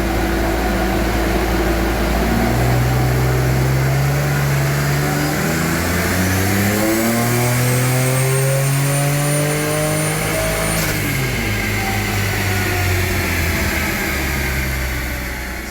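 Turbocharged Jeep Wrangler V6 on a dyno running 6 psi of boost, loud and close, engine revving up through gears in rising sweeps then dropping off near the end, steady roar throughout with no talk.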